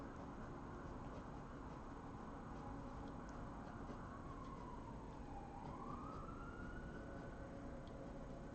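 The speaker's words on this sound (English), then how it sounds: "You might be able to hear sirens in the background." A faint siren wails far off, rising and falling slowly beneath a constant hiss of background noise.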